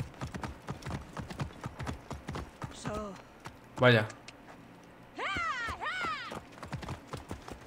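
Galloping horse hooves in the Assassin's Creed Origins video game: a fast, steady clip-clop rhythm running throughout, with a brief whinny and someone talking over the hoofbeats.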